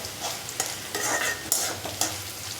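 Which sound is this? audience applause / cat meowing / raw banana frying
raw banana frying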